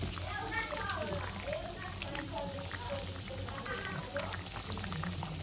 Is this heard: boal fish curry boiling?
yes